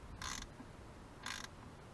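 Two short ratcheting bursts a second apart as a wrench snugs down a threaded fill plug on the NP231 transfer case of a Jeep XJ, close and crisp over a quiet garage background.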